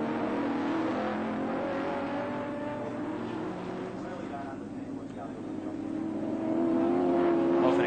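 Race cars at Oran Park in a 1983 touring car round, a Mazda RX-7 chasing a Holden Commodore, give a loud, steady engine drone that rises in pitch toward the end, with no talking.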